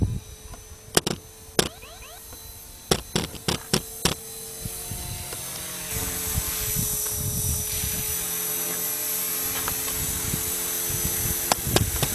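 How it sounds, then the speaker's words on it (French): A Blade 450 RC helicopter descending under a GPS flight controller gives a steady close rotor whine and hum, preceded by several sharp clicks and ticks in the first few seconds. "L'hélico est en train de descendre."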